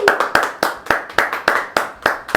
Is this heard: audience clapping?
yes